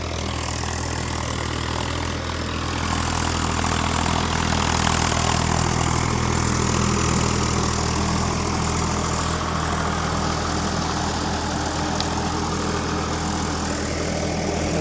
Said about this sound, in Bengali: গাড়িটার কিন্তু মারাত্মক লোড পড়ছে ইঞ্জিনে।